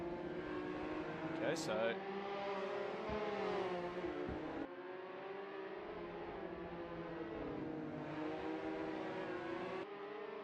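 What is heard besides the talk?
Can-Am Mini Street Fighter race cars driving on track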